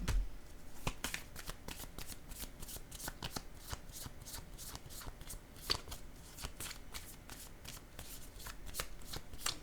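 Tarot cards being shuffled by hand, a rapid continuous run of crisp riffling flicks, close and steady throughout, no voices.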